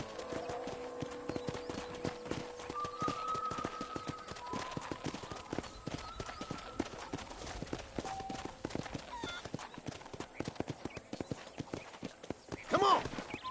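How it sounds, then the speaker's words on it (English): Horse hooves clip-clop steadily in the Red Dead Redemption video game, a continuous rhythmic trot with a brief whinny near the end, under faint background sounds. "let's see if you can still ride a horse"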